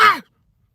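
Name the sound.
person imitating a cough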